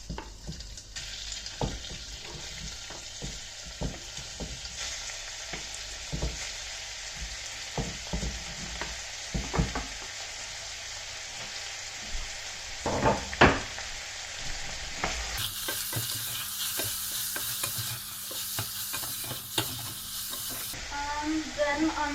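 Meat frying in a little oil in a casserole sizzles steadily, with spoon scrapes and clanks throughout and a louder, hissier burst of frying in the last few seconds.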